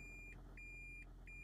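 A car's reversing alarm emits repeated short electronic beeps at a steady rhythm, quiet and slightly muffled over a low engine hum.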